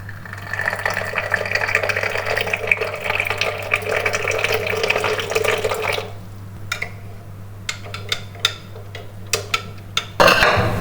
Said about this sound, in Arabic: بعدين دي هصب فيها شاي بس الميه لسه بتغلي.